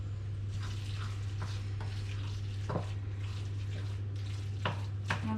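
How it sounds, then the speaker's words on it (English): Filling being stirred in a frying pan for keto pasties, with steady sizzling under a constant low hum and a few soft scraping strokes of the utensil against the pan, close by. "Okay, now we'll give that a stir."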